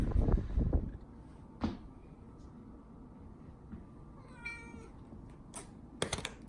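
A cat meows a couple of times against quiet room noise, with a few clunks and knocks around it.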